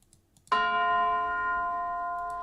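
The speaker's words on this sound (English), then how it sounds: "I also added this bell sound, which is very cool in my opinion." A single bright bell note from an EDM trap track, struck sharply and left ringing with rich overtones, slowly fading over about two seconds with nothing else around it.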